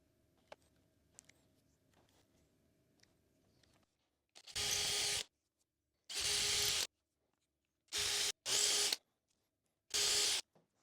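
Four loud bursts of a power drill boring holes through a wooden electric guitar body, each lasting about a second with short pauses between, after quiet handling noises.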